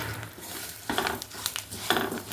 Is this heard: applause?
no